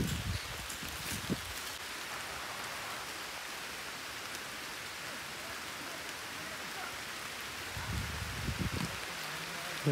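Steady rain falling on Mangad hill fort, a soft continuous patter and hiss throughout, with a couple of brief low rumbles or handling bumps near the start and end.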